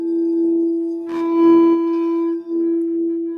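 A sustained, ringing bowl-like tone with steady overtones, swelling slightly midway as the outside rim is rubbed with a mallet, humming on continuously.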